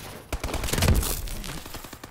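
Rapid gunfire in the multiplayer mode of Call of Duty: Advanced Warfare, a dense burst of close, loud shots running for about two seconds with no talk over it.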